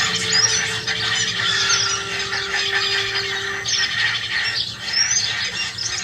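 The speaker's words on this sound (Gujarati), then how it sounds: "so these are the surrounding bird જે આપણે અત્યારે સાંભળી શકીએ છીએ" Recorded bird calls fill an art exhibit space: repeated squeals, squawks and chirps over a steady hum, moderately loud and continuous, with no talking.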